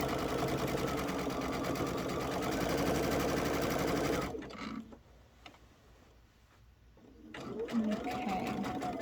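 Close and steady, a sewing machine runs along a quilt seam with a rapid mechanical whirr, pauses for a few seconds of near quiet, then starts stitching again.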